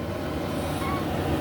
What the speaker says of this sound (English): sorry about the noise of the air conditioner.